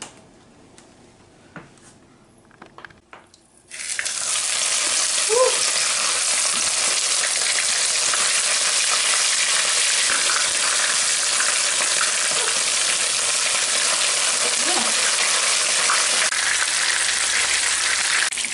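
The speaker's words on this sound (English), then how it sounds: "I'm gonna fry my fish now." Floured, salt-and-pepper seasoned fish frying in hot oil for escovitch gives a loud, steady sizzle that starts abruptly and runs on unbroken, with a few faint clicks and no talk.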